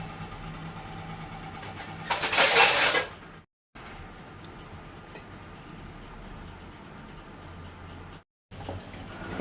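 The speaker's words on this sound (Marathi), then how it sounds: "ती मिक्सरान घालूंक जाय आनी इल्लें उदक घालूंक जाय आनी बारीक वांटून घेता" An electric mixer grinder grinds chillies with a little water for a Goan-style dish, whirring steadily with two brief cut-outs and a louder surge near the start.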